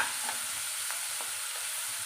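Washed fenugreek leaves fry in hot tempering oil for an aloo methi dish, producing a soft, even, continuous hiss with faint occasional crackles, quiet and alone.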